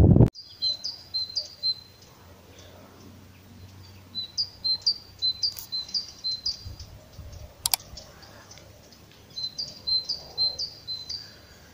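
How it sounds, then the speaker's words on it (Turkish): Birds sing along the Lycian Way trail on an upland slope, with bursts of high chirping phrases recurring every few seconds at moderate distance over a quiet outdoor background. "Kuşların sesi geliyor mu bilmiyorum."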